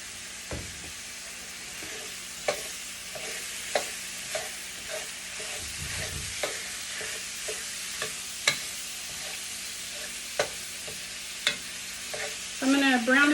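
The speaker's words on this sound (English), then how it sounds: "So I'm going to brown up this ground meat and then I'll get right back with you." Ground meat seasoned with Italian seasoning and garlic salt sizzles steadily in a pan, with regular stirring scrapes every second or so, close and alone.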